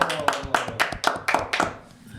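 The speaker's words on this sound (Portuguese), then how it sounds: "Uma salva de palmas a Everson Castro!" A studio audience applauds a guest with rhythmic, close, sharp hand claps in a fairly regular beat, tapering off toward the end.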